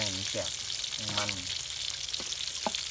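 Fish paste mixture stir-fried in a pan, a loud steady sizzle from start to finish with someone speaking over it and occasional faint clinks of the utensil.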